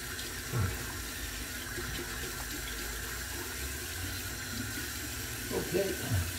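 Tap water running into a bathroom sink before a shave, a steady rushing splash heard close, with a few brief bumps and handling sounds and no clear talking.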